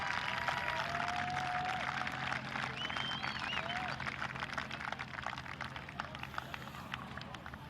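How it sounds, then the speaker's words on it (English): Spectators at a polocrosse World Cup match between Zimbabwe and Zambia applaud in a steady, distant wash of clapping, with a few whistles rising over it and a commentator's voice faintly beneath. "Give them a round of applause, ladies and gentlemen"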